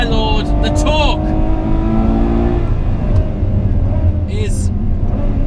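A high-revving Ferrari 812 Superfast V12 engine roars continuously and loudly at Fiorano, with sharp explosive bursts as gears shift and the pitch climbs and drops.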